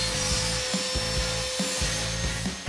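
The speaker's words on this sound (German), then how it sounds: "Jetzt sägen wir als erstes die Leisten auf das richtige Format ab. Das ist mit der Tischkreissäge gar kein Problem." A Parkside PTKS 2000 G5 table saw cutting wooden strips, its loud steady motor whine overlaid by a repeated rasping, thumping rhythm as the blade bites through the wood in quick successive strokes.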